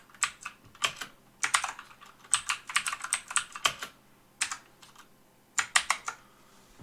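Fast, uneven typing on a computer keyboard, with a cluster of crisp, close key clicks in quick bursts and short pauses between them, then a final few taps. No voice is heard.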